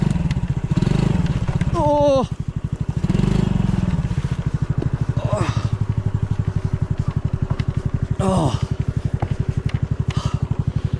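A light motorcycle idles with a steady, close pulsing thump, rising briefly in revs a few times, while a rider exclaims over it.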